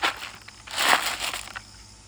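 Rocks tumble out of a heavy tipped bucket in a short, close crunching clatter that peaks once and trails off over about two seconds.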